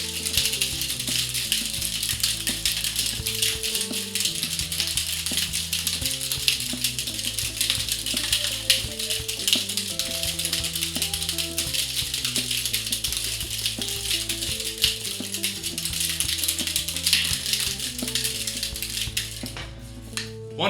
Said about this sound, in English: We're gonna seal the shaker up with no ice, hence a dry shake.